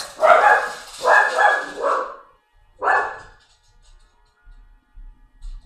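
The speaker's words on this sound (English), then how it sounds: "Oh no, the dogs!" Dogs bark in two loud, close bursts separated by a pause, followed by fainter low rumbling sounds.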